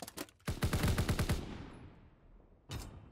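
Gunfire in Call of Duty WW2 during a Search and Destroy match: a close, loud burst of rapid automatic shots rattling for about a second, a trailing echo, then another short sharp burst near the end.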